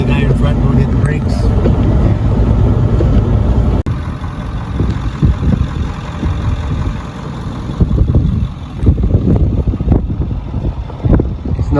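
A vehicle drives a highway through strong wind, snow and poor visibility, with a loud continuous engine and road rumble buffeted by gusts; someone talks over it at the start.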